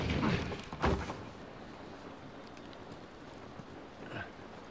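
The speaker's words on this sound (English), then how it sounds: "This rain ain't gonna do us any good." Rain falls in an outdoor scene of The Last of Us as a steady, moderate hiss, with a couple of brief louder knocks early on.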